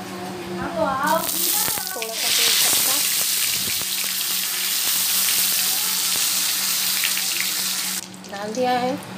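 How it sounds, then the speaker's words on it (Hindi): Cumin seeds dropped into leftover hot oil give a bright, loud sizzle that holds steady for several seconds, with a voice speaking at the start and end. "अभी बचे हुए तेल में डालेंगे हम थोड़ा सा जीरा।"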